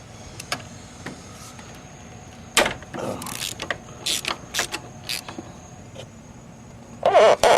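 A socket wrench on a long extension and swivel works the AC compressor bolts of a 1995-2003 Nissan Maxima, giving sporadic metallic clicks, clacks and ratcheting bursts with gaps, close up and moderately loud, without speech.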